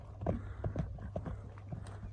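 A young stallion's hooves clip-clop on the ground at a livestock market, a faint, regular series of hoof strikes at a walking pace over a low steady background hum.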